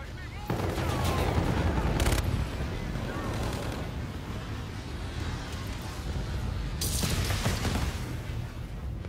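A called-in strike unleashes sustained heavy gunfire in a first-person shooter on a new multiplayer map, loud rattling volleys over deep rumble with sharp bursts near the start and again toward the end.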